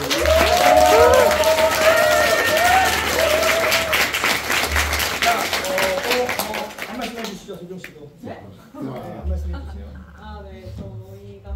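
Audience applause at the curtain call of the Korean musical 진짜나쁜소녀: dense, loud clapping with cheering voices on top, easing off after about eight seconds into thinner claps while voices carry on.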